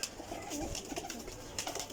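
Pigeons cooing faintly in low, wavering calls against a noisy background, with a few brief sharper sounds mixed in.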